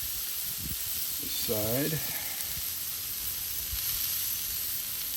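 Clover Valley frozen burger patties sizzle in a pan with a constant, even hiss, close and steady throughout, as someone speaks briefly near the middle.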